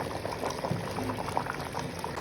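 A pot of tinda gosht curry, apple gourd cooked with meat, bubbles and simmers steadily on the stove, a continuous close burbling with small pops and no voices.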